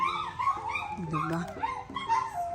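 A dog in a residential subdivision that feels like a province, with short yips and whimpering cries mixed among voices of people talking nearby, fairly close and clear.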